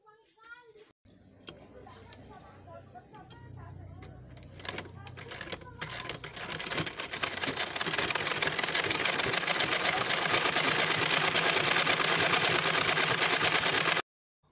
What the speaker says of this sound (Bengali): তো চলো সেলাইটা আবার করে নিই।